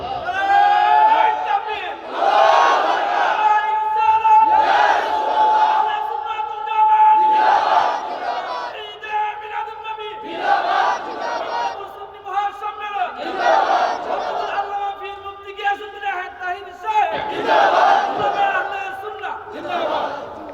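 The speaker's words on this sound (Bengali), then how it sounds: "স্লোগান দেন।" A large crowd at a Muharram sermon on Karbala chants slogans together in loud, rhythmic call-and-response bursts. Each surge of voices lasts about two seconds and repeats steadily, roughly every two and a half seconds, for the whole stretch.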